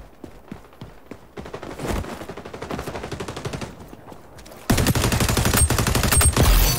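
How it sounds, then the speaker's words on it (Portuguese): Heavy gunfire in an online shooter game, with rapid bursts and dense volleys of shots that grow louder and more continuous toward the end, close and overlapping. "tanto de tiro!"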